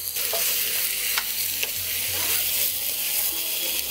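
Turmeric, red chilli and coriander powders roast in a pan, giving a dense, constant sizzle with a few sharp spoon scrapes, close and loud throughout, nobody speaking.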